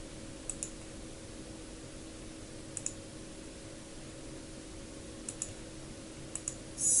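A few faint, sparse clicks of a computer keyboard come through over a steady electrical hum, with short pauses between the keystrokes.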